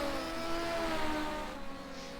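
Legends race cars at Hednesford Raceway oval drone past in the closing laps of a 25-lap final, a steady blended engine buzz with rising and falling whining tones at moderate distance.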